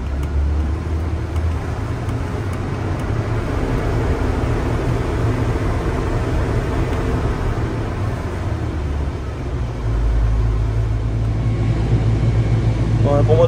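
A combine harvester's engine revs up from a steady run, the roar thickening and growing louder near the end, with low rumble and broadband mechanical noise throughout.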